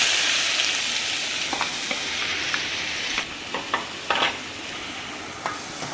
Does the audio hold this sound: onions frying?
yes